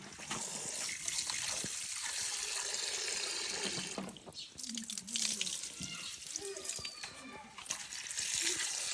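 Freshly picked rose apples are washed in water, with splashing, trickling and sloshing that rise and fall in uneven bursts, close by.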